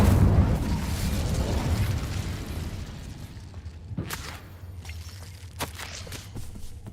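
Incendio fire spell cast in Hogwarts Legacy, a loud rushing burst of flame that fades, followed by a few sharp pops and crackles amid quieter game ambience.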